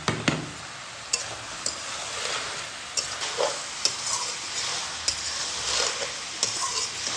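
A spoon repeatedly scrapes and taps through vegetarian cabbage curry with sugar and tomato in a sizzling pan, roughly a dozen sharp clinks over a steady low fry, close by with no voices.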